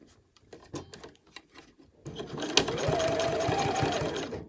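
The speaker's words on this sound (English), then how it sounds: "I'm just sewing right on the edge of my binding there." A sewing machine stitching along the edge of a binding runs steadily for a couple of seconds after some quieter handling noises, close and fairly loud.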